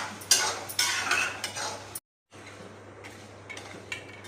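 A spoon stirs chicken pickle and chili powder in a pan after the stove is switched off, giving close scraping and clinking strokes with a faint sizzle, then a brief drop to silence before softer stirring resumes.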